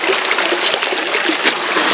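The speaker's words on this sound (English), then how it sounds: "just a complete tunnel of water runoff" Water runoff rushes through a creek tunnel, a loud close, continuous hiss and gurgle with splashy texture, steady and unbroken, no voices.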